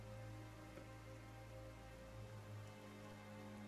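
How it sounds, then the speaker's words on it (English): Sudden rain falls steadily in the Genshin Impact game world, a dense, even wash of patter with low ambient tones and game music underneath, continuous and fairly faint throughout. "Why is it raining all of a sudden?"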